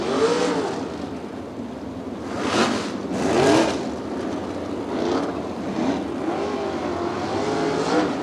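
Wingless sprint cars of the POWRi league race on the dirt oval at Lucas Oil Speedway, engines roaring and swelling as the pack sweeps past, with steady loud motor noise throughout and no talking.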